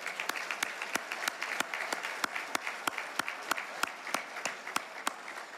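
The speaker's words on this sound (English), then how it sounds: "Please join me in giving a warm round of applause to those sponsors for their support" Audience at an annual Louisiana business luncheon applauds its sponsors, a steady, even run of claps that sounds fairly distant and moderately quiet, continuing for several seconds without talk.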